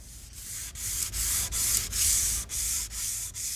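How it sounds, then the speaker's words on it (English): Varnished wood on a classic Bronco being lightly sanded with the grain by hand, a close, steady rasping in a regular back-and-forth rhythm of about nine strokes, with no talking. "lightly sand the wood with the grain to remove any dust or imperfections"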